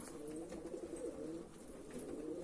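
Pigeons coo softly in backyard coops, a low murmuring warble repeating at a moderate distance beneath faint outdoor ambience.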